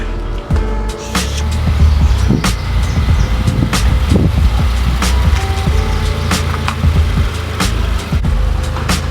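A 2018 Subaru WRX with a Borla S-Type full cat-back exhaust, heard up close as a steady, loud low engine and exhaust drone, with some wind buffeting and small clicks through it.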